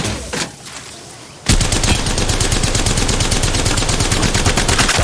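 Rapid automatic gunfire erupts suddenly and continues in a dense, loud stream as the player is hit in the mobile shooter Apex Legends Mobile.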